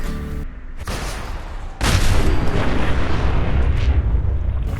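A Mini Nuke blast from Fallout 4 roars out after a brief lull, a massive, loud explosion whose rumbling wash sustains for several seconds, following a few earlier gunshot bursts.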